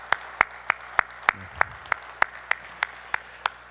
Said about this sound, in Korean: 한번 자리에서 다 일어나시면 우리 박수로 크게 환영하도록 하겠습니다.